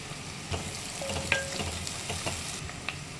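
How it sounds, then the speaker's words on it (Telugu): Onions, curry leaves and spring onion stalks frying in a pan for a river fish curry give a soft steady sizzle with occasional light stirring clicks, quiet and close. "ఉల్లిపాయలు అయితే బాగా మగ్గినండి దీనిలో కొంచెం కరివేపాకు ఆనియన్స్ కాళ్ళు అనమాట అండి ఇవి వేసుకోవాలి"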